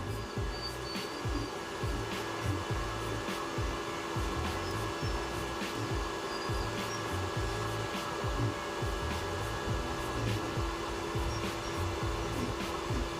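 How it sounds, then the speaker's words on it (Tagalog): A REAIM 2-in-1 inverter welding machine arc welding with a welding rod, producing a loud continuous crackling buzz with a steady electrical hum, unbroken throughout and close up, no talking. "Mabilis matunaw yung welding rod natin"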